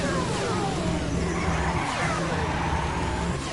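A car engine revs hard and steadily at a drag race start in Gran Turismo, a loud, dense, continuous roar with no breaks.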